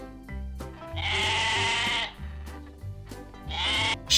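A sheep bleats twice, a wavering nasal baa followed by a shorter second call, moderately loud against a low background hum.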